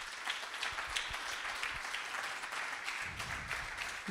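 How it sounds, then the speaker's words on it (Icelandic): Applause at a health science conference, a quiet, fairly distant patter of many hands clapping steadily for about four seconds. "Gefið henni ótrúlega gott klapp."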